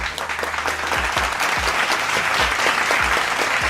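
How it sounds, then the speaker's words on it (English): Clapping at a steady, quick rhythm, loud and close, with a low thumping pulse underneath and no talking. "I'm gonna clap it up for him"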